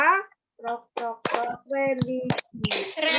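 A classroom of children chants together in rhythm, their voices punctuated by sharp group hand claps, close and lively in an indoor room.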